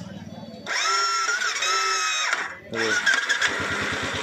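A Royal Enfield Classic GT Continental 535 with a failing electric starter cranks twice, a strained whirring motor dragging under load in two bursts separated by a brief pause, loud and close, while someone speaks briefly.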